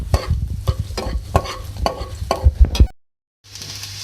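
Chopped garlic frying in oil in a pan, stirred while it fries for chicken vegetable cheese cutlets: a close, steady sizzle with repeated scraping stirs, a brief silent gap, then the sizzle resumes.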